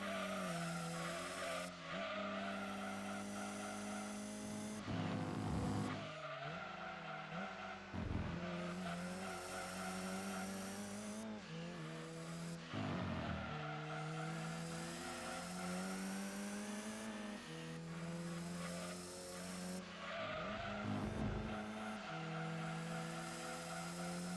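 Front-wheel-drive car in Gran Turismo 2 understeering through repeated corners, its tires squealing in long wavering bursts over a revving engine, with sharp drops between each slide, loud and continuous.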